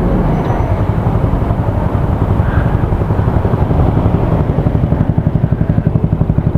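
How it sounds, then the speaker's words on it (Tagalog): A Vegaforce FI motorcycle fitted with an SC Project exhaust and two silencers runs loud and close, a dense steady engine drone whose firing pulses grow more distinctly rhythmic toward the end. "paparinig ko muna sa inyo kung anong tunog nitong SC Project kapag may nakakabit na dalawang silencer"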